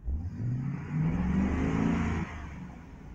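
A truck engine revs hard and loud, rising through a sustained roar with mid-range harmonics before dropping back to a lower steady hum, with no talking.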